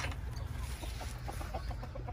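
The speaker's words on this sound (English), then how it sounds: "So there's a rooster there and three pullets." Silver-laced Wyandotte bantam chickens, a rooster and three pullets, cluck softly in short bursts over a low background hum, close by.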